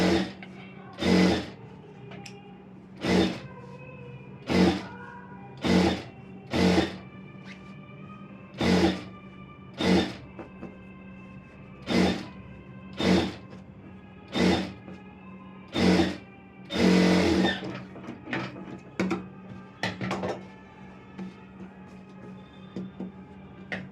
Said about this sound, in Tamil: இப்போ நம்ம திருப்பிட்டு இந்த லைனிங்கில் ஓரமாக தையல் போட்டுக்கிறேன்.